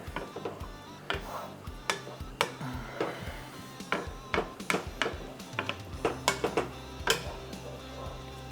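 A utensil stirs creamy garlic beef pasta in a pan, giving repeated close clinks and scrapes in an irregular rhythm over a low sizzle, with no talking.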